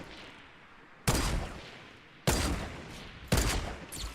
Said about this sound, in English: I'm just gonna snipe him down to finish him off.